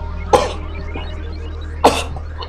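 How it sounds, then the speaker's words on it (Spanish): Loud human sneezes burst out in three sharp blasts, one early, one later and one at the very end, over a steady low hum of background noise with no talking. "Ay, Dios mío, los estornudos son fuertes."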